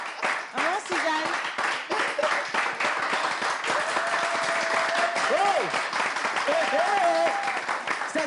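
Studio audience at a French-language broadcast applauding in a dense, continuous wash of clapping, with voices and some sung or drawn-out vocal tones over it.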